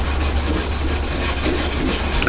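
A Scotch-Brite pad scuffs fresh paint on an MGA body, a close, continuous rough rubbing hiss with a faint back-and-forth rhythm and no voices.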